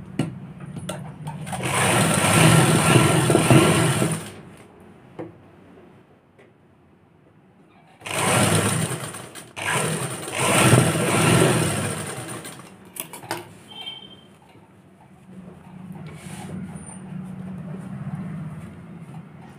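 A sewing machine stitches a pocket onto palazzo pants in two long whirring bursts, then runs in shorter stop-start spurts with quiet gaps between.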